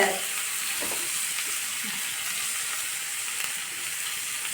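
Small onions and tomatoes sauté in a pan for barley soup, a constant soft sizzle and hiss with light stirring scrapes, close and alone throughout.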